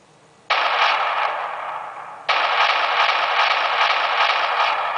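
Simulated gunfire from an iPhone gun app, a dense continuous burst of automatic fire that starts abruptly, dips briefly, then resumes and holds steady and loud for several seconds with no talking.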